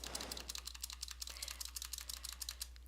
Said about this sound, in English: And now if I keep on typing,